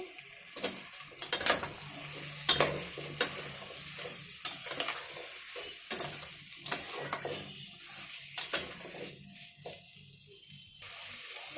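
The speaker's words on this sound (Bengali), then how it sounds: "এবার কুমড়ো আর আলুটা দিয়ে দেবো।" Chunks of pumpkin and a few potato pieces drop into a pot of mixed-lentil khichuri, giving repeated soft thuds and clatters over a low sizzle and stirring, close and moderately loud, with no talking.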